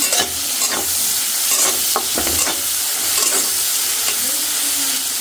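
Shrimp and vegetables fry in a pan for a chingri chorchori, stirred with brisk scraping over a loud, continuous sizzle, close up with no voices.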